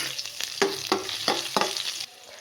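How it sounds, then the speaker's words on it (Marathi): Finely chopped green chillies and curry leaves hit hot oil in a pan, giving a loud, crackling sizzle broken by several sharp stirring scrapes, then quieting toward the end. "त्याच तेलामध्ये आपल्याला बारीक कापून घेतलेली ही मिरची घालून घ्यायची आहे."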